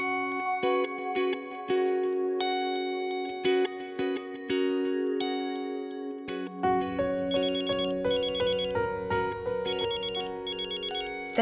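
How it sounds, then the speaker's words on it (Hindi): A phone ringtone plays alone, a bright electronic melody repeating in looping phrases. Higher sparkling notes join midway, and the tone stays clear and steady. "जरूर उसका फोन होगा।"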